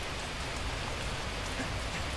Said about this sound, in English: I think it's raining outside as well